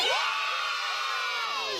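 A wrestling event crowd cheers loudly, with whoops and shouts rising and falling together in a dense, close roar that fills the short burst.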